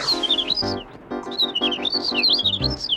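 High, quick cartoon bird whistles and chirps flit above a backdrop of gentle melodic music, repeating in short trills.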